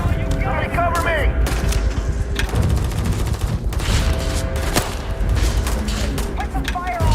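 Dense gunfire in the space RPG Starfield, with bursts, booms and clatter overlapping steadily under game music and voices shouting throughout.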